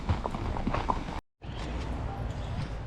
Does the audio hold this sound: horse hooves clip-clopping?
yes